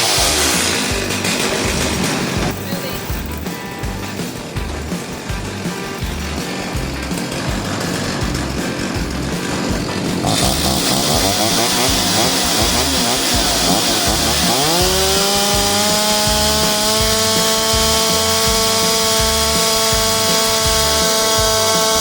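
A freshly serviced chainsaw fires up and runs, its two-stroke engine buzzing loudly and raggedly at first, then revving higher into a sustained, rising high-pitched whine close by, with no talking.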